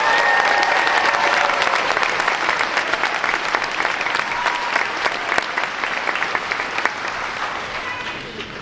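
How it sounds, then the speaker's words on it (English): Sustained audience applause after the evening's performances at a commencement ceremony, a dense, steady wash of many hands clapping at full level throughout, easing slightly toward the end, with faint voices in the crowd. "let's get one more round of applause for all the performances tonight"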